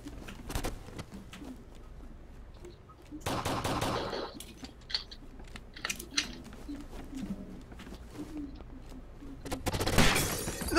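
Gunfire in the tactical shooter game Takedown: Red Sabre comes as scattered single shots and short bursts, with one sustained rattling volley early on and another burst at the end, all fairly quiet and with no talk.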